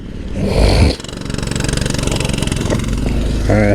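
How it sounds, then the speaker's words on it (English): A Honda Trail 125 motorcycle pulls away in second gear, its small single-cylinder engine giving a close, rapid, even putter that holds steady for a few seconds after a brief louder burst at the start. "That's a second gear start."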